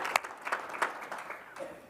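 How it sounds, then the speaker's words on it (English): Scattered audience applause at a governor's speech, a few sparse claps with soft crowd noise, fairly faint and brief. "We're not clapping for me, we're clapping for us"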